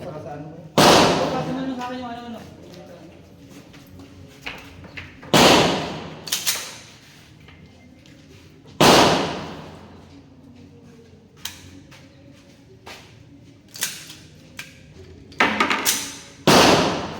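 Gunshots fired outdoors while testing a scapular amulet: several sharp, loud bangs come one at a time, spaced seconds apart with quieter stretches between, and two land close together near the end.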